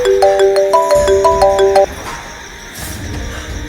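Incoming-call ringtone on a phone, a loud repeating electronic melody of clear tones that plays for nearly two seconds, then stops, leaving faint room noise.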